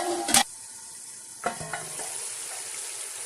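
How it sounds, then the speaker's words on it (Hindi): Tomatoes for chana pulao fry in a pan with a soft, steady sizzle, broken by a couple of sharp utensil clatters from stirring. "और अब मैं इसको हल्का सा भूनूंगी।"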